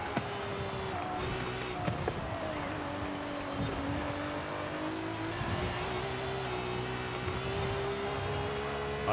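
A high-power, low-grip car build in the Forza Horizon 5 racing game roars and revs steadily throughout, its engine pitch rising and shifting continuously at close range with no speech.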